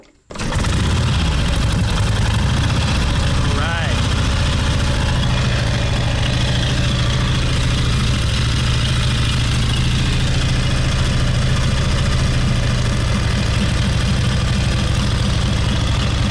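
A Harley-Davidson engine in a half-ton pickup catches and settles into a loud, steady, close idle that runs on continuously without voices.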